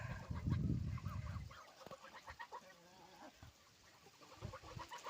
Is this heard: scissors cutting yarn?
no